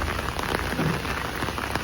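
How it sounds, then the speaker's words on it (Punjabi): Steady, dense monsoon rain pattering on surfaces in paddy-season farmland, a constant close hiss of drops with no wind and no voices. "ਆਨੰਦ ਵਾਲਾ ਮੀਂਹ ਪੈ ਰਿਹਾ"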